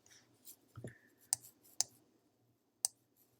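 A computer mouse gives a handful of sharp, close, quiet clicks spaced irregularly across a near-silent room.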